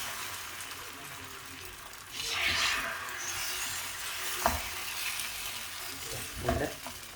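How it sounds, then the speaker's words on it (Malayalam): Neer dosa batter cooks on a hot greased pan. A soft sizzle swells into a louder hiss at about two seconds, then settles into a steady fizz with a few faint knocks. "മാവ് നല്ലപോലെ കലക്കിയിട്ട് ഓരോ തവിയായിട്ട് കൊരി ഒഴിച്ചു കൊടുക്കാം"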